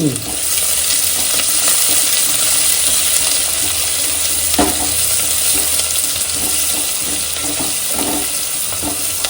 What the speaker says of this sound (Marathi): आणि आता ही फोडणी छान परतवून घ्यायची ना